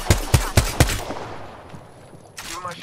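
Four sharp gunshots in quick succession in Apex Legends, loud and close, followed by a quieter decaying tail and a faint later rustle.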